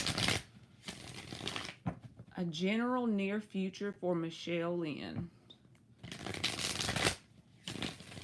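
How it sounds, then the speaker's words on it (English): Tarot cards being shuffled in bursts of crisp riffling at the start and again near the end, with someone speaking between the shuffles. "4 more shuffles."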